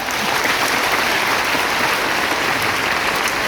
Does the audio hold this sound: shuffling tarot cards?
no